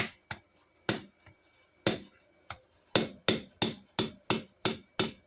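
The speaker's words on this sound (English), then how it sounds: "We're going to take our flathead, our Klein flathead, and we're going to beat it in there." A Klein flathead screwdriver is hammered in to pry out a rear wheel seal on a Ford Econoline van, giving a dozen sharp metallic strikes that start irregular and settle into a quick, even rhythm, close and clear.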